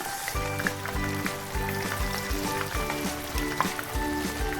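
Chicken pieces frying in sunflower oil give a dense, close crackle and sizzle, heard alone and at a steady level, with rhythmic thumps and a ringing tone running under it.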